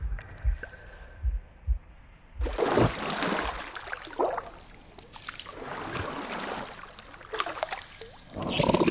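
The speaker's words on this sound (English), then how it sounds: "a deafening heartbeat" Deep rhythmic thumps from a deafening heartbeat in the video game The Last Campfire, several low beats early on, then swelling into dense watery gurgling and sloshing that carries through to the end.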